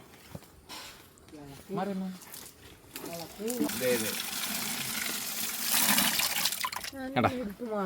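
Water gushes and splashes as it is poured out near a muddy pond at night, rising to a loud rush midway, with people talking over and between the pours.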